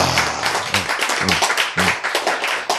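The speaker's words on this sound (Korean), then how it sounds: "박수" Dense, lively clapping from an audience at a Bible lecture fills the room, steady and close, with brief voices breaking in among the claps.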